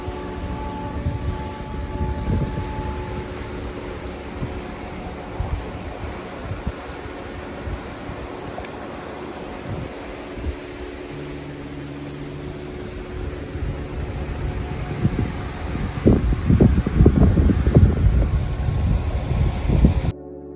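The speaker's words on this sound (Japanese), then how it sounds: "こちらが五稜の滝です。" Goryo Falls in Oirase Gorge, Aomori, Japan, gives a steady, continuous rushing roar of falling water, heard at a moderate distance, swelling somewhat louder toward the end, with no voices.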